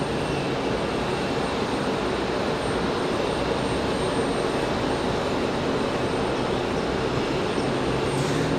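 A departing jet airliner at Raleigh-Durham International Airport produces a loud, steady engine roar that stays continuous and broadband from start to finish, with no voices.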